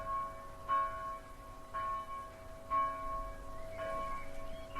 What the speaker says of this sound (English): As the bell rang its 12th toll.